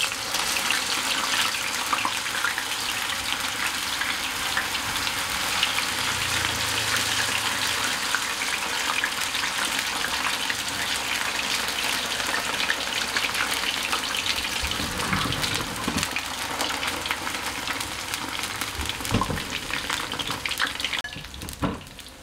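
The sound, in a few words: battered tornado potatoes frying in hot oil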